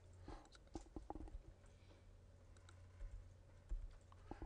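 Scattered clicks of computer keyboard keys being pressed while working in Adobe Flash, irregular taps and short bursts, fairly quiet and close, with no voices.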